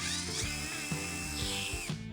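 A Procraft 12V cordless drill-driver whirs loudly and close up, its motor pitch shifting as the speed and trigger change, in short dips and surges across the run with no voices.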